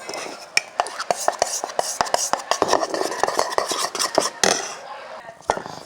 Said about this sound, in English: Then mix.